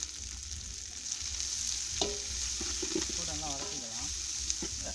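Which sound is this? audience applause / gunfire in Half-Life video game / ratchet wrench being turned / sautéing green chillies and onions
sautéing green chillies and onions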